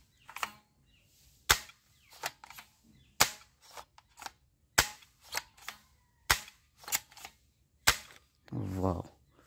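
A colorful toy gun fires a string of sharp, close cap-like cracks at irregular intervals, some in quick pairs, ending with a short voice.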